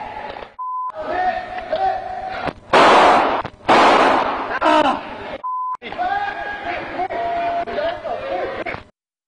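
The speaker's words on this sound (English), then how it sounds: "Listen as the dash cameras capture some of the shots." Gunshots at the 2019 NAS Pensacola shooting, caught by a police dash camera: a few loud, sharp cracks stand out among electronic beeps and radio chatter, with people talking throughout.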